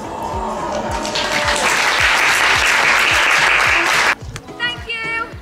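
Audience applause at an equestrian competition, a dense sustained round of clapping for about four seconds that cuts off abruptly, followed by a voice speaking.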